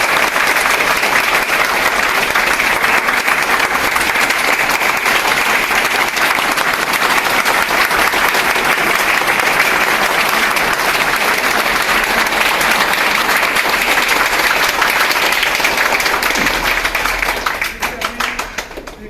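Continuous loud audience applause at an office associate meeting, a dense even wash of many hands clapping that holds for a long stretch before thinning and tapering off near the end, with no talk over it.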